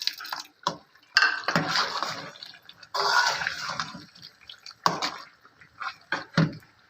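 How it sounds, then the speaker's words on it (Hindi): Tomato paste goes into a pan of nearly softened potatoes, making wet splattering and sizzling bursts with a few pan scrapes, loud and then easing off, with no talking. "अब हम इसमें ये टमाटर का पेस्ट शामिल कर देंगे।"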